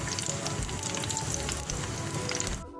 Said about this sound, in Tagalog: Lagay lang natin na mag-brown ang ating garlic